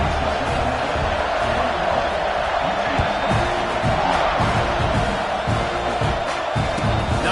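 Home crowd cheering in a college football video game matchup of UTSA against Texas A&M, a broad steady roar of noise that holds loud throughout with a commentator's voice running over it.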